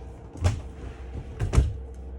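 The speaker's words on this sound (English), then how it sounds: "your 2 doors that come together magnetically." Two bathroom doors in a 2013 Auto-Trail Tracker EKS motorhome closing together magnetically, giving a soft knock followed by a second pair of close muffled thuds in a quiet interior.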